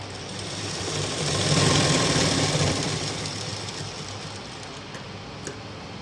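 A sewing machine stitches blouse pieces together in a steady, continuous mechanical whir with a low motor hum, swelling slightly louder midway and then holding level, with no talking.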